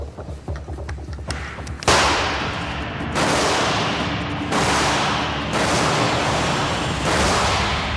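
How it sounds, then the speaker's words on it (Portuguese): A 12-gauge shotgun fires at an aluminium sheet of the kind used on commercial aircraft, set about 50 metres away: around five sharp, loud blasts at uneven intervals, each trailing into a rolling outdoor echo. "usou uma espingarda calibre 12 para atirar nas luzes que ele viu no céu"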